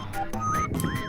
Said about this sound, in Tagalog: Oh, isa pa nga, sipol pa nga.